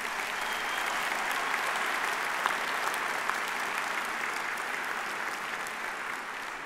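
An audience applauds graduates at a Holmesglen graduation ceremony in 2011, with steady, sustained clapping from a large crowd that stays even and moderately loud throughout.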